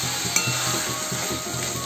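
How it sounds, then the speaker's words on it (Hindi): Mushroom curry sizzles steadily as it fries in a pan, a continuous close crackle with faint stirring and a single light clink near the start, and no talking. "अब अच्छे से इसको फ्राई करना है।"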